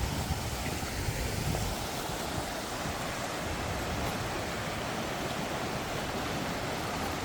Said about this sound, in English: Stone River, where all water is collecting.